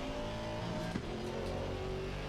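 A Mercedes-AMG GT4 race car pulls hard up through the gears on track at Brands Hatch, its engine note climbing loudly before a quick shift cuts in and the revs build again.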